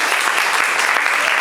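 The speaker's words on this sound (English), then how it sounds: "Let's give her a round of applause." A crowded audience at an Urban League address in Memphis claps for a guest, a dense continuous burst of applause with no pauses.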